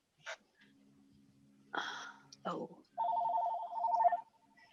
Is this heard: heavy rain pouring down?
no